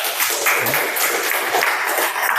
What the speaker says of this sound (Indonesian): Tepuk tangan dulu untuk Satria.